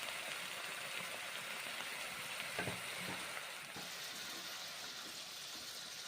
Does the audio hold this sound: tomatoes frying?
yes